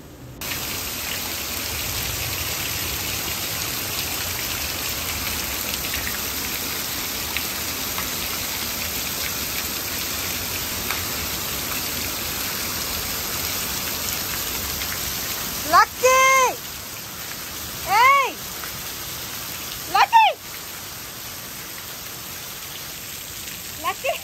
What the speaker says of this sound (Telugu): ఇంటి పక్కన తవ్విన ఇంకుడు గుంతలోకే వెళ్తున్నాయండి కాలువ ద్వారా